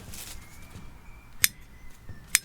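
Two sharp, quiet snips of pruning shears cutting a sweet potato stem for a cutting in a garden, set apart by about a second over faint background noise.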